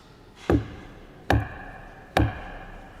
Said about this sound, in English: Instead, Father Joshua took that large processional cross and struck the very doors, the entrance to our church 3 times with the base,